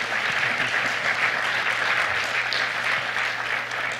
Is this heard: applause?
yes